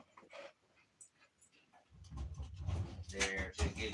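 Dogs coming in from outside pant rapidly close to the microphone, with soft whimpers and faint shuffling, growing louder in the second half as they get nearer.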